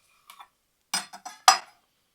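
Knife cutting through a dry-brined steak on a board: a faint tap, then a few quick, crisp scraping strokes in close succession, near and isolated against silence.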